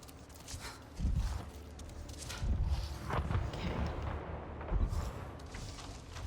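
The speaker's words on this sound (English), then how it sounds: "What I did there created that explosion." An explosion set off in the Avatar video game while sneaking around a drill outpost, heard as several heavy low booms and rumbles spread across a few seconds with a steady ambient game bed beneath.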